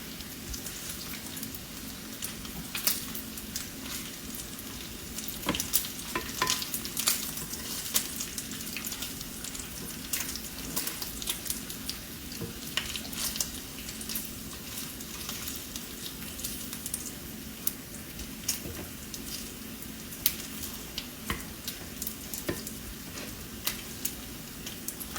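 Bacon sizzles steadily in a frying pan, a dense crackling hiss peppered with small pops that continues evenly with no talking.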